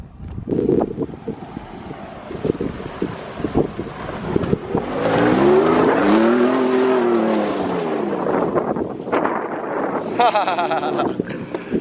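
A 2019 Ford Raptor truck, fitted with new wheels and a lift, spins out while taking a fast corner, its engine roaring loudly over wind buffeting the microphone, with voices briefly audible.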